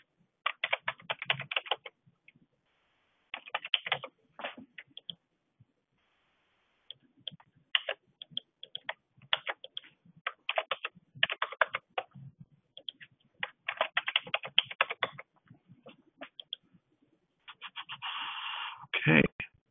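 Close, crisp clicks of someone typing on a computer keyboard while entering data into a Microsoft Access form, in irregular bursts of rapid keystrokes separated by short pauses.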